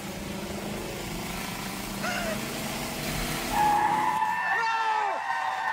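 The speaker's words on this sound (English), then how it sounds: "and there is a screech of brakes." SUV brakes screeching as it speeds out of a curve, a sharp rising tire squeal over a steady engine rumble, loud and close, with a few higher squeals at the end.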